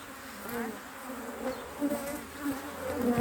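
Honeybees buzz steadily around an open, recovering hive during a frame inspection, a close, continuous hum with individual bees swelling and fading as they fly near.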